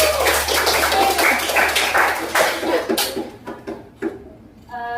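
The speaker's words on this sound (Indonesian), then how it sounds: "boleh diberikan tepuk tangan" A university sociology class claps for a student group during a microteaching session: a dense burst of applause for about three seconds that thins into a few scattered claps and then stops.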